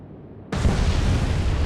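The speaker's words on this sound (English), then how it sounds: "So if we target there, we'll fire one torpedo." In the Atlantic Fleet naval warship game, a torpedo launch gives a sudden loud burst after a brief quiet moment, then settles into a sustained broad rushing roar that keeps going to the end.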